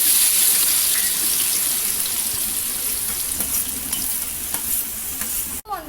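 Onions frying in oil in a pan for home-style chicken biryani, with cloves, cinnamon and cardamom already added; a steady close sizzle runs throughout with occasional stirring, cutting off abruptly near the end.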